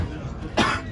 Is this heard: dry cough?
yes